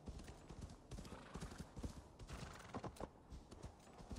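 Rapid, rhythmic hoofbeats of a galloping horse in the video game Assassin's Creed Valhalla thud steadily, fairly quiet, with no talking.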